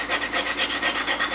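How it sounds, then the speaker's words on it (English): Rhythmic back-and-forth rasping of 150-grit sandpaper on a sanding block against a metal bench plane lever cap spring, close and steady, about eight quick strokes. "Next, it's on to the 150 grit paper on a sanding block."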